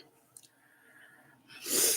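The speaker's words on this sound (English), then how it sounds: "Occasionally I'll sneeze like 5 or 6 times in a row" A single sharp sneeze bursts out near the end, preceded by a quiet breath in a calm room.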